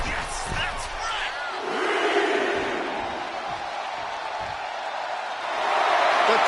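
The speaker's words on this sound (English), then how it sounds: "The crowd is fully behind Io, and she knows it." A crowd roars and cheers at a women's wrestling match in the WWE 2K25 video game, loud and sustained and swelling toward the end, while a commentator talks over it.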